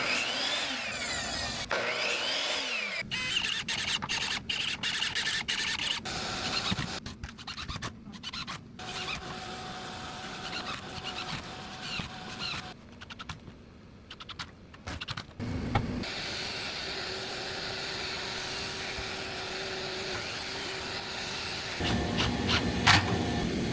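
Power tools whine and grind while battery trays are built for a boat's lithium bow thruster batteries. Bursts of motor noise alternate with scraping, sawing-like passages and short pauses, fairly close and without speech.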